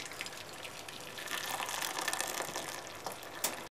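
Hot potato cooking water poured off from a pot into a bowl, a continuous soft splashing gush that swells in the middle and stops abruptly at the end, close and fairly quiet.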